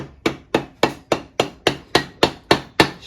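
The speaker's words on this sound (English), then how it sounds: "start tapping it into place." A hammer taps a rear differential bearing into place on a Fuso 4x4 truck, eleven sharp metallic strikes in a steady, even rhythm, loud and close with no talking.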